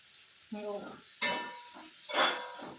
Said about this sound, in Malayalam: സവാള പച്ചമുളകും നല്ലോണം വാട്ടിയെടുക്കാം.